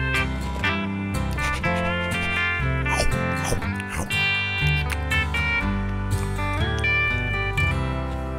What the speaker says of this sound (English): Brown dog, bark, bark, bark.